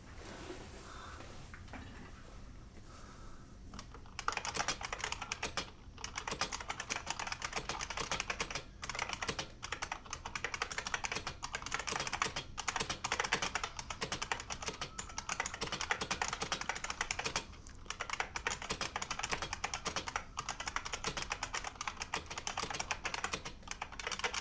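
Steady typing on an IBM Model M mechanical keyboard, with dense, continuous clacking keystrokes close to the microphone and brief pauses, heard alone without talk.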